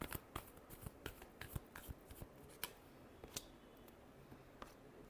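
Tarot cards are shuffled by hand in a quiet room, giving a string of soft, crisp riffling snaps at an uneven rhythm, close and fairly faint.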